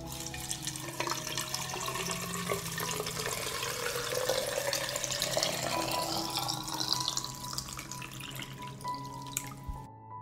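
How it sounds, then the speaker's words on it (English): Boiling water is poured into glass jars packed with tomatoes, a continuous trickling, splashing stream whose pitch rises slowly as each jar fills, close and fairly quiet, then stops abruptly. "This is how I pour the boiling water into the jars."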